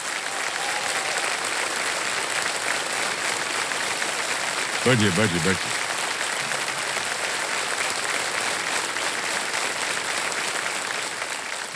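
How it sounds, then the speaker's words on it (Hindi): Studio audience applause on the KBC Season 17 quiz show set, a steady dense clapping that fills the whole stretch, with the host's voice briefly speaking over it partway through. "तालियां बज जाए इनके लिए"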